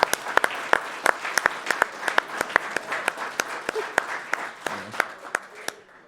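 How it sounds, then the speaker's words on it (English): A crowd applauds at the RPG Limit Break 2022 charity gaming marathon finale, a fairly close burst of sharp, separate claps running unbroken for several seconds. "Let's have another round of applause for that."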